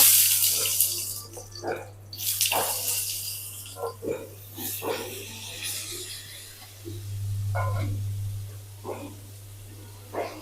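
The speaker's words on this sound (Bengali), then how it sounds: "একটু হালকা জল দিয়ে দিই" Water is poured into a pan of potato curry during home cooking, coming as intermittent splashing and trickling bursts over a constant low electrical hum, one longer pour near the middle, with no talk.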